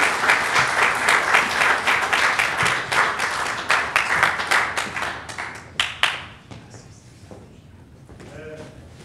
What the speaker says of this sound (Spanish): Vamos a recibir a nuestro Pastor Ramos con un fuerte aplauso, abriendo nuestros corazones.